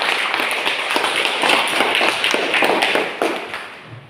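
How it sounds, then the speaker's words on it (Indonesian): Classroom applause, a brief burst of many hands clapping quickly and irregularly, fairly loud and close, fading slightly at the end. "Kita tepuk tangan."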